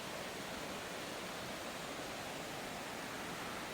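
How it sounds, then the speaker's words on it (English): A river flowing below a forest trail, a steady broadband rushing wash heard from a short distance, unbroken and even in level throughout. "The river's down here."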